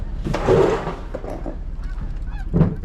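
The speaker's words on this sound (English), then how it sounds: "You might hear the geese. They're above us." A few geese honk overhead, their calls coming in short bursts a little way off against faint background noise.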